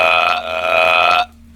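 Man letting out one long, loud, tonal belch lasting over a second, close and clear, cutting off abruptly into quiet.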